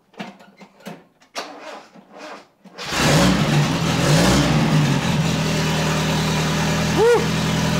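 After a few seconds of quiet clicks and shuffling, an RA28 Toyota Celica Fastback engine with a half exhaust pipe roars to life loudly and holds a raspy, rumbling rev, then eases off near the end.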